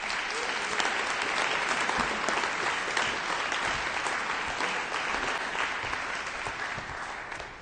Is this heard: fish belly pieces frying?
no